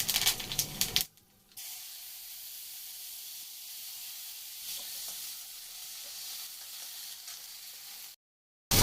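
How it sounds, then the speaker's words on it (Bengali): Black cumin seeds sizzling in hot oil, a steady close hiss and crackle holding for several seconds, framed by brief louder bursts of noise at the start and end. "একটু কালো জিরে তেলে দিয়ে দিলাম"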